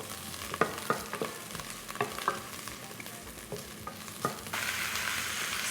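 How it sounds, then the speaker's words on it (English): Lamb meat frying in a pan over already-fried onions for an okra stew, a steady close sizzle broken by repeated clanks and scrapes of a stirring utensil, with the frying growing louder and hissier near the end. "we're going to add our lamb meat onto the onions,"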